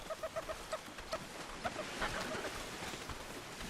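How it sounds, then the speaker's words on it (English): Hostile birds in ARK Survival Ascended give repeated short, clucking calls at a moderate distance over a steady ambient game background. "Uh-oh, there's one of those nasty birds right there. You hear them?"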